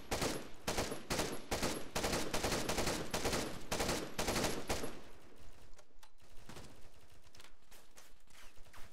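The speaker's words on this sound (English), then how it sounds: "We're taking fire." Gunfire in Arma 3 during a PvP firefight: a rapid, loud automatic burst of shots in close succession, followed by scattered, fainter, more distant shots.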